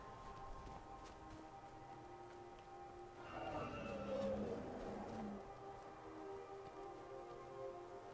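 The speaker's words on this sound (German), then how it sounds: "Oh, es regnet." Rain falling in Skyrim, a steady soft patter on surfaces that thickens briefly midway, heard faintly alongside sustained ambient game music tones, with no speech.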